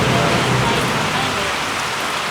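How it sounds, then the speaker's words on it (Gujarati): Rain falls steadily as a loud, dense wash of hiss that continues without pause. "પણ આ વરસાદ છે એ બધું"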